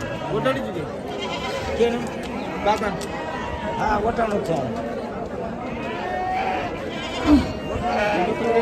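Sheep bleat in short calls scattered through a busy goat and sheep market with black Karnataka-bred sheep, over steady crowd chatter and nearby voices.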